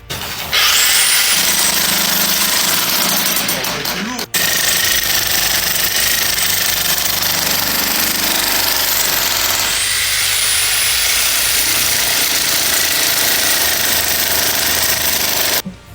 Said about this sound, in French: Ça s'est plutôt bien passé avec le marteau-piqueur